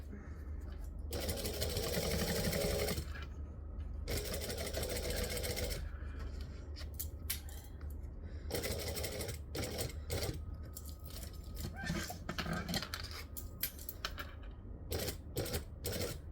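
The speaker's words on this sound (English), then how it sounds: "I'm going to tuck that tail underneath the presser foot, line up the edge, and go." Sewing machine stitching a strap of printed waterproof canvas, running in several bursts of rapid mechanical chatter separated by pauses, fairly close, with a few clicks and handling sounds in between.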